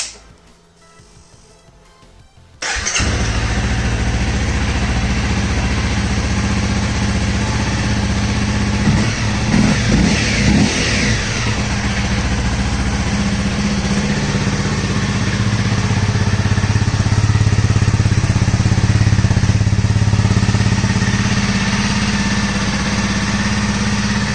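A Honda CRF250L dual sport motorcycle with stock exhaust starts after a brief rumble and settles into a steady, loud idle close by, with light revs partway through.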